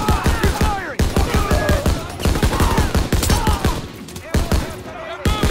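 Rapid, sustained gunfire from a World War II battle in Call of Duty WWII's Death Factory campaign, dense overlapping shots and bursts filling the whole stretch at close, loud range, with shouted voices mixed in.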